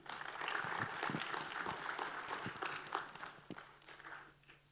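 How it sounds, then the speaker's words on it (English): An audience at a tech talk claps in steady applause for a speaker that gradually thins and fades out over a few seconds. "Can we have a round of applause for Anand?"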